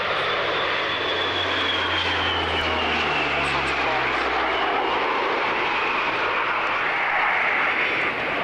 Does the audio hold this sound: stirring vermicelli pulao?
no